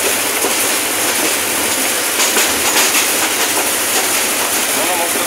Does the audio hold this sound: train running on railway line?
yes